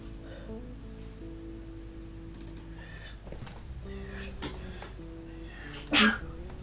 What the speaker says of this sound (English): I feel like I'm gonna sneeze actually.